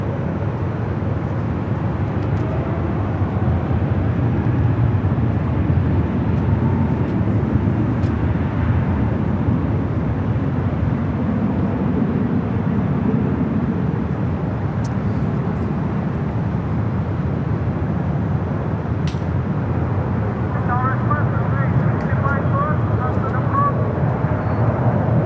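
A JetBlue airliner takes off on runway 24 Left at LAX, its engines a loud, continuous roar that holds steady throughout, heard from a spotting position with people talking over it.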